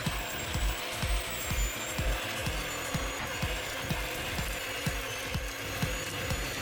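An electric mixer creams softened butter for peanut butter cookies, giving a steady motor whine with rhythmic low knocking as the beaters turn, moderately quiet and close.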